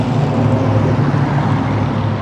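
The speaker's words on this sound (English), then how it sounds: "as you could hear the traffic going by because we do have a road here in front of us" Steady road traffic passing on a road in front of a house beside a garden, a continuous low rumble and wash of tyres with no voices over it.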